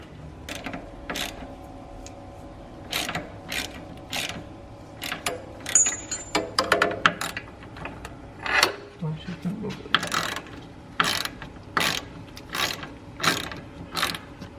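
A ratchet fitted with a 10mm socket clicks in short repeated bursts while removing the headlight level sensor arm on a BMW F30/F80/F82, with metallic mechanical ratcheting close up and faint background noise between strokes.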